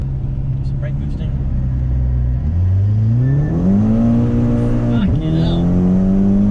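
A tuned VW Golf MK5 GTI Pirelli Edition, stage 2+ at about 400 bhp, holds loud steady revs while brake boosting, the engine drone climbing in pitch and dipping briefly before settling, heard close from inside the car.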